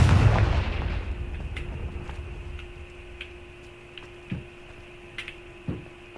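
A fire-blast spell explosion in the Hogwarts Legacy video game opens with a loud, low, rumbling boom that decays slowly over about two seconds, followed by a few fainter sharp pops and clicks against a steady tonal hum.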